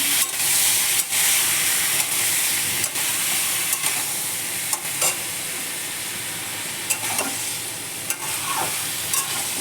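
Small mourala fish coated in spices are stirred and turned in a hot pan, a loud continuous sizzle broken by repeated soft scraping strokes of a spatula.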